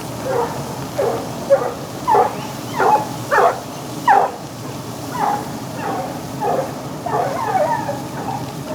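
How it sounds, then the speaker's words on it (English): A dog barks while chasing a cat, a steady series of sharp, repeated woofs with short pauses between them, fairly close, over a low background rumble. "Dogs chase the kitty cat."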